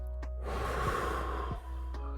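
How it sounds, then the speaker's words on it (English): Heavy breathing during a weightlifting workout: one long, close, rough exhale that swells and fades, framed by short sharp inhales, loud against a steady low hum. "Excuse my breathing."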